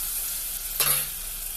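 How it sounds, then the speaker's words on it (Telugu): Onions with turmeric frying in a pan give a steady soft sizzle, with one brief louder scrape of stirring partway through. "ఇప్పుడు పసుపు వేసుకుందాం పసుపు వేసుకుందాం మంచిగా వేయాలి ఉల్లిగడ్డ చాలా బాగుంటుంది"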